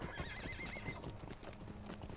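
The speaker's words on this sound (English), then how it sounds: "Crunchy horse noises." Horse hooves clip-clop in a steady trot with a whinny near the start, from a mount in the online game Lord of the Rings Online, heard close and continuous with no talk.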